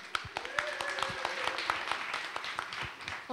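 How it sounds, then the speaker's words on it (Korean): Audience applause at a book concert after a young singer's song, scattered distinct hand claps from a modest crowd, fairly faint and irregular, with brief tonal sounds mixed in. "다시 한번 박수 부탁드리겠습니다"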